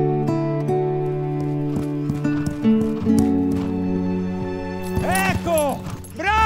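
A horse neighs in a sharp, shrill whinny near the end, over tonal music with scattered thuds that may be hoofbeats.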